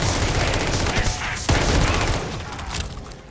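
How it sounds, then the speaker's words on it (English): Automatic gunfire from a player's weapon in Call of Duty: Vanguard zombies mode, a dense continuous burst of rapid shots lasting the whole stretch, loud and close with a sharp jolt midway, amid game noise. "I'm using my auto gun right now."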